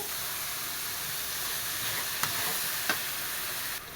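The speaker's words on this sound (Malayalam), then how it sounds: "ഇനി ആ വെള്ളരിക്ക ഇട്ട് കൊടുത്ത് നന്നായിട്ടൊന്ന് ഇളക്കി കൊടുക്കാം" Cucumber being stirred in a pan with hot oil, onion, tomato and spices: a steady broad sizzle with a couple of sharp scrape clicks from the spoon, fairly close and continuous.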